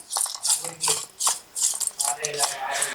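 Rhythmic scraping and clattering of a spoon stirring chicken fry pieces with salt and chili powder in a metal pan, repeating in quick strokes close up, with a voice talking faintly underneath.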